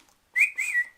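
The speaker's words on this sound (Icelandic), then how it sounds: "Það tvenns konar flaut, þú getur flauta með kjaftinum" A short human mouth whistle, two quick rising-and-falling notes in close succession, clear and alone against silence.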